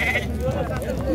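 Sheep bleat at a crowded outdoor livestock market in Khachmaz, a single drawn-out wavering call heard close over constant background chatter and men bargaining.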